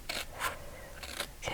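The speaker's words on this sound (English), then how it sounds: "Okay, so now I'm going to cut." Scissors cut paper for a pop-up Mother's Day card, with about four to five quick, crisp snips at close range in a quiet room.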